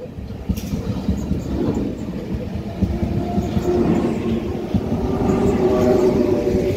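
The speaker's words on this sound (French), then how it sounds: "avec un TGV qui arrive avec 113D, pas le logo NCF" A TGV high-speed train arrives and rushes past at a station, a loud steady rumble and rolling rail noise building over several seconds with no speech.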